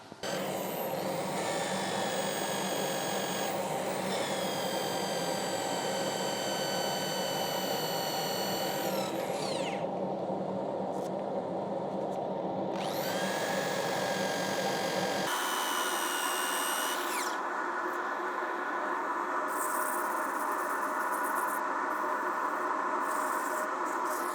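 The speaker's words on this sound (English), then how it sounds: "Let's sand it up, eh?" A wooden heavy-duty chopping board sanded while spinning on a wood lathe, a steady whining motor drone with a rasping sanding texture and shifts in pitch as pressure changes, running continuously without talk.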